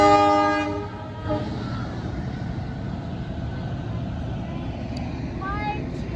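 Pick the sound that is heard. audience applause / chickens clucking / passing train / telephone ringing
passing train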